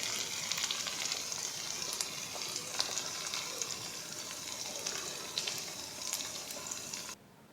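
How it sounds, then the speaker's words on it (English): Minced beef fries in a pan, a steady close crackling sizzle with small pops and occasional stirring, running alone until it cuts off near the end. "Now in a pan I'm cooking my minced meat."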